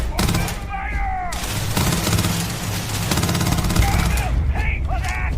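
Gunfire rattles in rapid bursts during a battle in the sci-fi role-playing game Starfield, dense and loud throughout, with voices shouting over the shooting.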